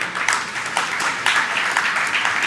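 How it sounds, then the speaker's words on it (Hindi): Audience at a Jain religious discourse breaking into loud, sustained clapping, a bright dense patter with a few sharper bursts, no talk over it. "बजाओ ताली।"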